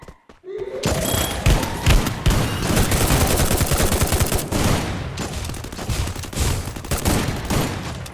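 Video game shotgun fire in a Doom game, with rapid repeated booming blasts that run almost continuously and loudly after a brief quiet start.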